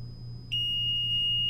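A single high electronic beep from a DM510 dryer controller alarm begins and holds as a steady continuous tone over a low machine hum.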